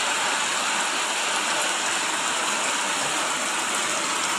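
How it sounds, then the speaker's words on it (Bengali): Heavy rain pours steadily outdoors in a dense, loud, unbroken hiss with no pauses or voices. "আজকে মঙ্গলবার 10:30 11টা এই মুহূর্তে বৃষ্টি হচ্ছে"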